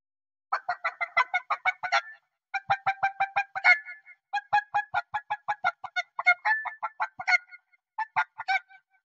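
A human voice mimics a hen's cackling after laying an egg in a comic animal-imitation performance: rapid, close, loud bursts of clucks in four rhythmic runs, each swelling to a sharper squawk.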